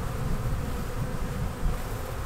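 A dense, steady buzz of a honeybee swarm close by, continuous and loud with no other sounds.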